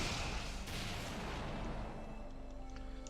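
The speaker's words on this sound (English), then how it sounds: "you charge up the energy in your jet boots and then release it in a huge explosion" Jet boots releasing charged energy in a huge explosion in the video game Phantasy Star Online 2: a rumbling burst of booming blasts, then a sharp crack as the noise tails off with faint sparkly effects.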